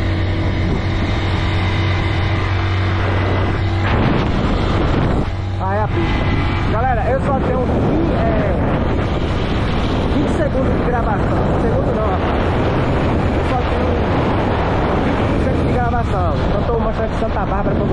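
A motorcycle travels a highway between Queimadas and Feira de Santana in Bahia, its steady engine and wind roar loud and continuous throughout, with someone talking over it.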